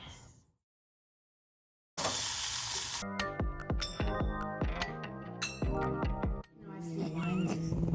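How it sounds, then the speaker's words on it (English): A cast iron griddle heating up gives off a brief burst of broadband sizzle that then continues more quietly beneath a song with singing, after a short stretch of silence at the start. "In the background, we have our griddle cast iron warming up"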